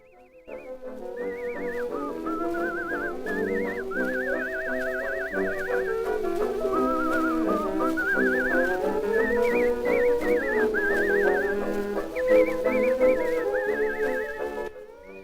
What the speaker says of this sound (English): we have some whistling